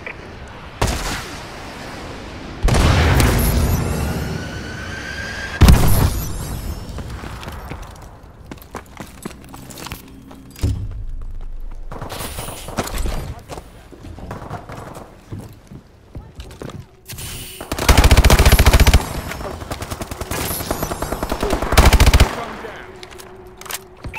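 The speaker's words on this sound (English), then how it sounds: "Missile strikes on standby. Friendly missile strikes inbound." Multiplayer team deathmatch in Call of Duty Advanced Warfare: repeated bursts of automatic gunfire and heavy missile-strike blasts, loud and close, in several clusters separated by quieter stretches.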